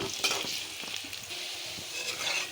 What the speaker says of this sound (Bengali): কেটে রাখা আলুটাকে ভাজতে দেব